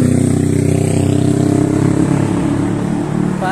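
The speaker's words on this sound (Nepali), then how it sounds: "बाह्र सयको बाइक हो" A 1200cc motorcycle engine revs loud and close, a steady throbbing drone that holds for several seconds before easing slightly near the end.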